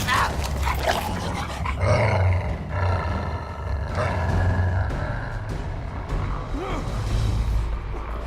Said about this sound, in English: Jack has a killer, emphasis on killer, dog named Shadow